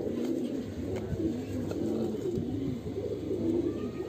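Steady pigeon cooing, soft repeated low coos close by over a constant background hum.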